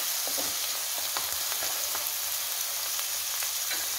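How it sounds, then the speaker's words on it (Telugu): Onions being stirred with salt in a pan while frying for a boiled egg curry, with a steady close sizzle and soft intermittent scrapes of the spoon, no voices. "బాగా మిక్స్ చేసుకోవాలి."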